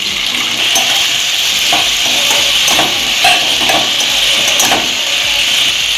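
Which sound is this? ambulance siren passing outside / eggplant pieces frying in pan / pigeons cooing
eggplant pieces frying in pan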